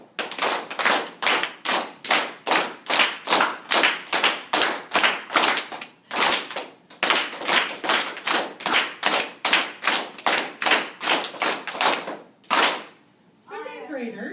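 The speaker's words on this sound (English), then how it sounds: "Can you clap it with me?" Children clap out the rhythm of the song Lucy Locket in a classroom, a run of sharp, close hand claps in a patterned beat of quicker and longer notes, pausing briefly midway, with a voice heard at the end.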